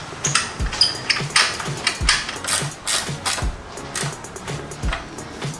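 Screws being tightened back in on a KTR150 motorcycle during an ignition and rectifier electrical upgrade, heard as a steady run of close, light ratcheting clicks with small metallic knocks, no talking.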